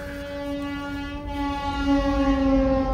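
A goods train rumbles past close by, its horn sounding a long sustained tone over the heavy clatter of rolling wagons, growing louder toward the end.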